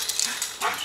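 A neglected dog left alone on a property barks and yips in quick, close, sharp bursts, with a whimpering edge between them.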